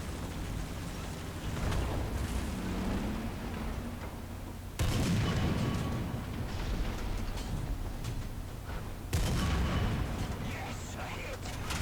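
Churchill Mk.III tank cannon fire in War Thunder, a few deep booming blasts spaced several seconds apart, each leaving a rumbling tail over a constant engine drone, with a voice talking at times.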